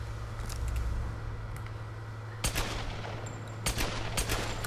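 Gunfire in the Tomb Raider video game comes as sharp bursts of shots, a couple of short volleys standing out over a steady low game ambience, fairly quiet overall.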